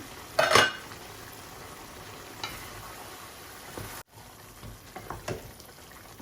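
Chicken sizzles and fries in a pan with bottle gourd while a utensil stirs it, a steady quiet crackle broken by a few sharp scraping clinks of metal on the pan.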